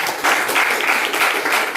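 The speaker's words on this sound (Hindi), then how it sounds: "प्रभु यीशु मसीह की ताली बजा दीजिए।" Church congregation at a Hindi-language service applauding for Jesus, a dense, loud, continuous wash of many hands clapping together that swells slightly in pulses.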